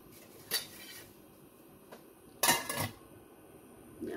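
A lid goes onto a soup pot of sweet corn and carrot soup, giving a short metallic clatter, then a louder clanking rattle as it settles into place in an otherwise quiet kitchen.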